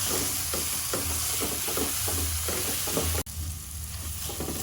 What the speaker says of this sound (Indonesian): kita tumis dulu bumbu yang sudah kita haluskan. Ini sampai bumbunya kering, sampai matang.